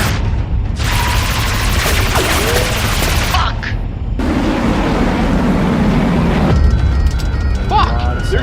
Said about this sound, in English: They're gonna breach the hull with all that gunfire, sir.